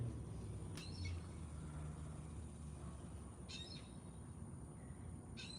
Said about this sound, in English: I hear a hawk.